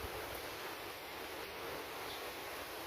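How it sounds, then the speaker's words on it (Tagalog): Steady wind rushes under a tree through the whole clip, a broad continuous hiss with no breaks or voices. "Mahangin sa puno, yan oh."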